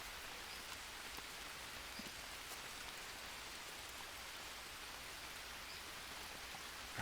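Steady rain falls in the jungle of the survival video game Green Hell, a constant, even wash of patter with no voices and no breaks across the stretch.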